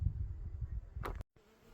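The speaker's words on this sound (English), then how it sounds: "The amount of insects makes it rather hard to just sit here and enjoy." Swarming biting flies on a mountain trail along the Continental Divide, a close, low buzzing drone that hums steadily before a brief rustle and a sudden cutoff, then fainter buzzing resumes.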